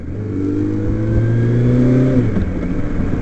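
A 1977 Kawasaki motorcycle engine runs close and loud, its low idle rising in a brief rev before settling back down.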